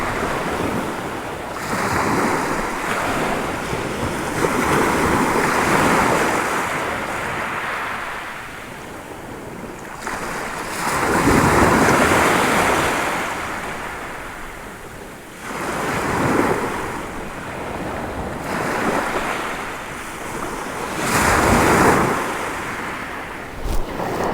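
Surf breaking on a beach at Withernsea on England's east coast under a light breeze, with waves surging and swelling in slow repeating washes about every five seconds, mixed with wind buffeting the microphone.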